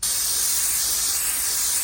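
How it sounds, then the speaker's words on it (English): Aerosol brake cleaner sprays steadily onto brake shoes and an axle during a Nissan R35 GT-R rear wheel bearing job, a loud, continuous close-up hiss with no pauses. "I'm gonna spray everything down in here, including the shoes and all that stuff"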